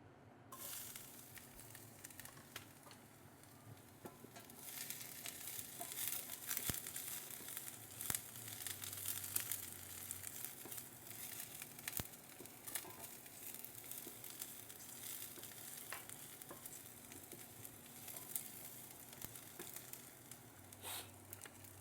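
Garlic dropped into hot oil in a pan while shrimp is being cooked, giving a steady, bright sizzle with occasional crackles and stirring scrapes, close and continuous without talk.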